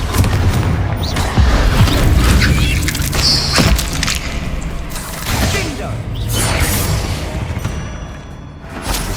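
Spell blasts booming in a Hogwarts Legacy combat scene, heavy explosive thuds and crashes layered over game music and effects, loud and sustained throughout.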